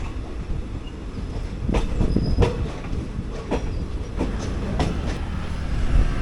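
The 06035 Summer Special passenger train from Tambaram to Kochuveli via Sengottai rolls along the rails with a continuous rumble, punctuated by sharp rhythmic clacks as the wheels pass over rail joints, loud and close.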